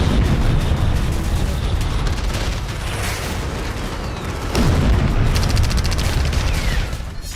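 K9 Vajra self-propelled howitzer guns in army artillery service fire in a loud, continuous barrage of booming blasts and rumbling, with dense overlapping detonations throughout and no speech.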